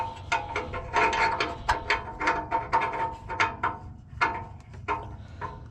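Rapid clicking of a 3/8 ratchet wrench loosening an oxygen sensor on a Toyota Sequoia, a quick series of close, fairly quiet ratchet clicks in uneven bursts.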